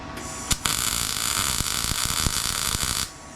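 Welder running a bead on a Chevelle restomod car frame during a Hellwig Frame FX kit install, a steady loud crackling buzz of about two and a half seconds with sharp pops at the start and throughout, then cutting off.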